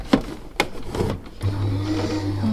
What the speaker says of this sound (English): we'll just pop this through the die cut machine